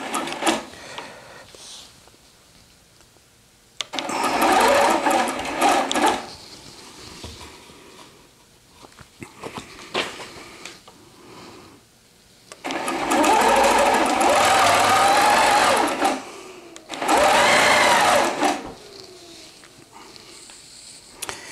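A longarm quilting machine stitching a June Tailor dog placemat along rulers: several loud bursts of fast, steady mechanical needle chatter, each a second or a few seconds long, separated by quieter stretches of handling noise and small clicks.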